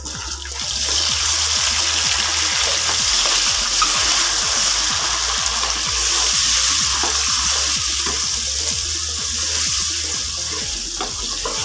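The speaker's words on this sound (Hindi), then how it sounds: "टमाटर को फ्राई करूँगी। फ्लेम मीडियम रखनी है, फुल फ्लेम बिल्कुल नहीं करनी।" Tomatoes frying on medium flame in a pan for aloo dum biryani: a loud, continuous sizzle with quick, repeated stirring scrapes close by and no voices.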